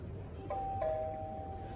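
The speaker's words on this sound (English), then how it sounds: "Actually, it ends up ringing the doorbell too." A doorbell rings with two quick chime tones, the second held and fading, heard faintly indoors over a low background hum.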